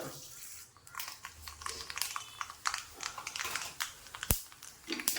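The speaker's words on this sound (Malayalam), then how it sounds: "ചട്ടി ചൂടായതിൽ അതിലേക്ക് 1/2 സ്പൂൺ കടുക് ഇട്ട് കൊടുക്കുക." Half a spoon of mustard seeds spluttering in a hot pan: dense crackling and popping spits, irregular bursts close by with a brief louder snap, no talking.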